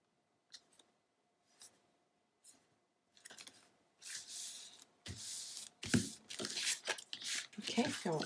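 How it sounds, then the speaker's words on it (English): Scissors snip through a lace paper piece being trimmed to size in a papercraft build, short close cuts at first, then longer rustling and crinkling bursts of handled paper; no talking. "then we'll trim the last lace piece down to fit"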